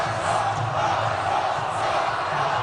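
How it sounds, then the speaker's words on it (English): A large stadium crowd cheers for Ron Paul after straw poll results are announced, a continuous dense roar of voices at a distance with no clear individual words. "the cheering is happening here for Ron Paul in the stadium"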